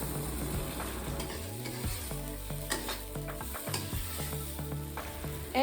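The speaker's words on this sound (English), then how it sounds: "Once the masala is cooked, you add in the tofu. Stir it well." Tofu being stirred into cooked masala in a pan, a continuous soft sizzle with repeated scraping strokes of a spoon, close and fairly quiet, no voices.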